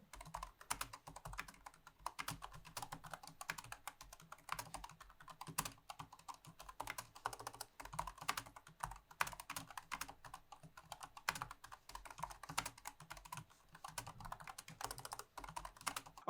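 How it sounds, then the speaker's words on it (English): Typing on a Razer Deathstalker V2 low-profile keyboard with optomechanical linear switches, producing a steady stream of soft, quick clacks at a close, quiet level with no voice. "here's just a quick sound test of how these optomechanical linear switches sound."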